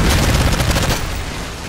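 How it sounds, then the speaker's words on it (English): Predator missile strike in a Call of Duty-style Kill Confirmed match: a dense, loud rumbling blast with crackling debris, strongest at first and fading over under two seconds, no voices. "Friendly Predator missile inbound"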